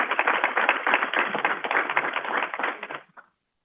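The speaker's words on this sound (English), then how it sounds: "huge round of applause for Ellie for really leading our work in this" Sustained applause from an audience at an annual OB COAP meeting, dense and steady for about three seconds before cutting off abruptly.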